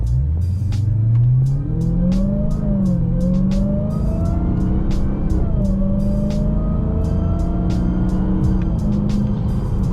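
A Dodge Hellcat in eco mode growls loudly and steadily, its engine note rising and falling through several revs, with crackling pops scattered over the deep rumble.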